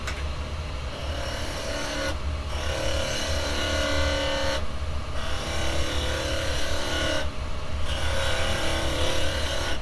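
Wood lathe spinning a wooden bangle while carbide chisels cut it, giving a loud, steady motor drone with a grinding cutting hiss that drops out briefly at regular intervals between passes.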